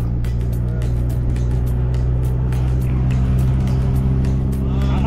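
An auto rickshaw rides through Chennai city streets near Egmore station, its small engine giving a steady, close rumbling drone mixed with continuous traffic noise throughout.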